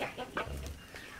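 Hens on an organic forest farm give a few quick, low clucks close by, a brief burst of farmyard chatter with faint background noise.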